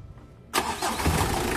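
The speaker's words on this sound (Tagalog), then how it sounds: "Switch off ko muna itong makina, tapos start ko yan." A Mitsubishi L300 engine cranks and catches after a quiet half-second, then settles into a loud, steady mid-pitched run close by, with no voices.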